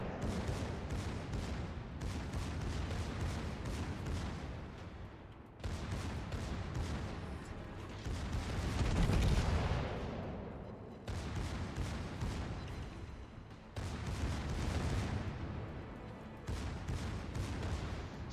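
Bismarck's secondary guns fire nonstop in World of Warships, rapid overlapping blasts rolling into a continuous dense barrage with booming swells, loud and close.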